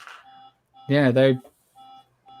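An alarm beeps in repeating short electronic tones, steady and moderately loud, with a person's voice cutting in briefly between the beeps.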